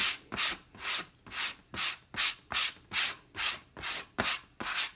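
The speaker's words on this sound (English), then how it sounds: "Sorry if you don't like the sound of sanding." Ten steady back-and-forth strokes of sandpaper rubbing on wood, loud and close, each a harsh hissing rasp with brief pauses between.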